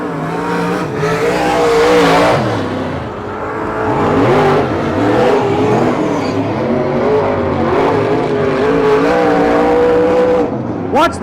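Stock car engines roar and rev continuously at a dirt oval race track during a late-November Turkey Classic race in Pearsonville, California, loud and close, with pitch rising and falling as cars accelerate through the turns.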